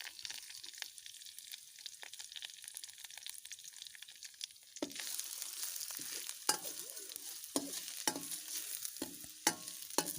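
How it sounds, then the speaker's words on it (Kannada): Chopped onion, mustard seeds and curry leaves sauté in hot oil in a pan, giving a steady sizzle that grows louder and busier partway through, with sharp clicks of stirring scattered on top. "ನೀರುಳ್ಳಿಯನ್ನು ಚೆನ್ನಾಗಿ ನಾವೀಗ ಎಣ್ಣೆಯಲ್ಲಿ ಬಾಡಿಸಿಕೊಳ್ಬೇಕು."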